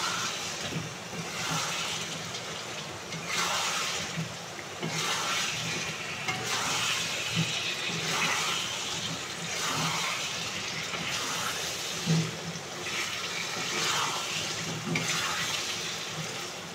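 Water poured into frying potatoes for aloo dum gives a steady sizzling and bubbling hiss, with stirring surges coming and going throughout.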